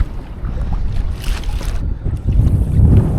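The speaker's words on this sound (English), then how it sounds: "that wind to really pick up into a nice adverse level" Wind gusting over a New England lake while fishing for largemouth bass from a boat: a steady, rough low rumble of moving air that swells louder toward the end, with no voices.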